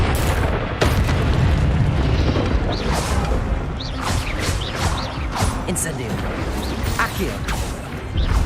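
An Incendio fire spell blast in the video game Hogwarts Legacy erupts amid busy combat noise, with repeated crashing, creaking impacts and booms, loud throughout, while a voice talks over the action.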